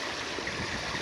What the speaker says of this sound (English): then you turn the handle on the Pond Max pressure filter, and all the waste comes out